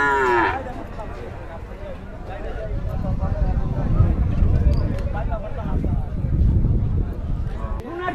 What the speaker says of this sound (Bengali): এটা চমৎকার একটি বিশাল বড় সাইজের গরু।